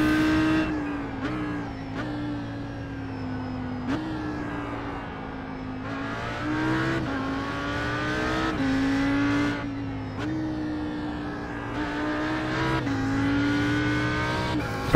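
An Audi R8 GT3 race car laps Spa in the iRacing sim, its engine droning steadily and rising and falling through repeated upshifts and downshifts, with brief dips into corners.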